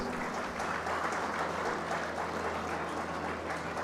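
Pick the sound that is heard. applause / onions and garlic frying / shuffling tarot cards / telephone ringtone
applause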